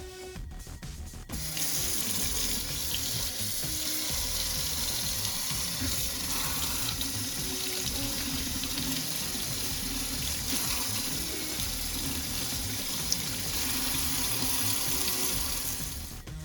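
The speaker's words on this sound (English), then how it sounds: "Make sure to always wash your produce." Tap water runs steadily into a kitchen sink while produce is rinsed under the stream, a continuous close splashing gush that starts after a brief opening moment and carries on unbroken.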